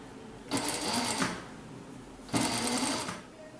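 A sewing machine stitches a baby jumpsuit in two close, steady whirring bursts of rapid needle strokes, each lasting under a second, with a quiet pause between them.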